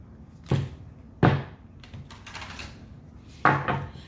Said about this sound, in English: I don't like shuffling like that.